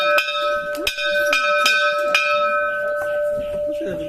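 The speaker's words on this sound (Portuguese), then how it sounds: "Com certeza o sino é sorte." A bell at a tourist site in Ceará, Brazil, is struck repeatedly by hand, giving about seven bright, ringing clangs with long overlapping sustain, close and loud, with faint voices in the background.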